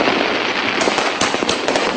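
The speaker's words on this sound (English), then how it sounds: "How much money have you spent on the fireworks?" Fireworks and firecrackers bursting during Diwali celebrations across Delhi, a dense, loud continuous crackle with sharper bangs popping through the barrage, no voices heard.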